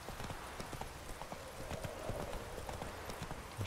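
Steady clip-clop of horse hooves at a walking pace in The Witcher 3: Wild Hunt, fairly close, with a brief whinny-like sound near the end and no talking.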